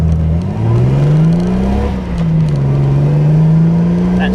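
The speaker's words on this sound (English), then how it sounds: "Let's do a quick pull. I'll show you what this engine's kind of capable of doing." A Jeep TJ with a 4.6 stroker engine accelerates at wide open throttle, a loud, close engine note climbing steadily in pitch, briefly dropping at a gear change and rising again without any talk over it.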